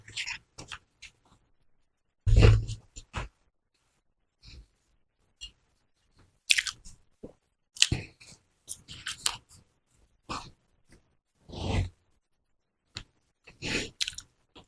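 Someone eating French fries close up: scattered short crunchy chewing bursts and mouth noises separated by quiet pauses, with no talking.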